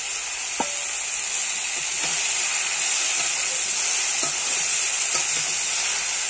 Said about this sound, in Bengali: পেঁয়াজ, কাঁচা লঙ্কা, রসুন ভালো করে ভেজে নেব।